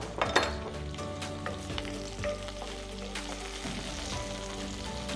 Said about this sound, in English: Okay, now the oil is hot enough. So we're putting in our sliced onion.